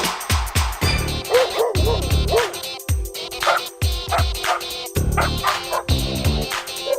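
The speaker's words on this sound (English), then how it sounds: "here with my constant companion, Foxy the Wonder Dog" A dog barks repeatedly in short, sharp bursts close by, the yips and woofs coming in an uneven rhythm that fills the whole stretch.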